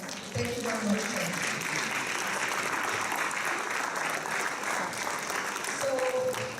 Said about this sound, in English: So, thank you for giving him a round of applause.